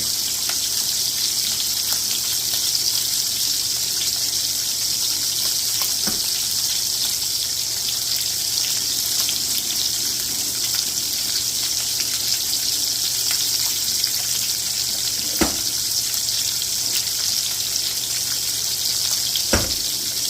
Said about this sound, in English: I am draining them in the sink so that I can then fry them in the pan